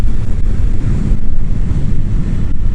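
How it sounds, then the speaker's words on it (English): Heavy wind gusts batter a riding motorcyclist, a loud, continuous low roar of buffeting that swells and churns steadily throughout with no voices. "oh, that's a big gust"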